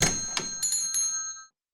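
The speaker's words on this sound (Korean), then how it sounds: "종이 울렸다." Door chime of a convenience store ringing as the door opens, a few bright bell tones struck in quick succession, then ringing out and fading over about a second and a half, close and clear with no talk.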